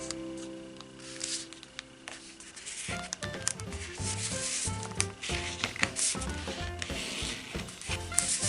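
Origami paper for a spring iris model crinkles and rustles as flaps are opened, squashed flat and creased, in close, busy crackling bursts over a soft tonal background.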